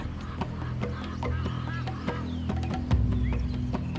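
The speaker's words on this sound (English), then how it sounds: "The highly territorial Egyptian geese will fight to the death for this stretch of river." Egyptian geese honk and squabble in scattered bursts over a low background by a river, with a louder flurry near the end as the territorial birds fight.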